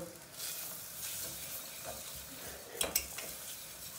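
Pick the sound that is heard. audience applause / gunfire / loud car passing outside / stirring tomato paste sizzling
stirring tomato paste sizzling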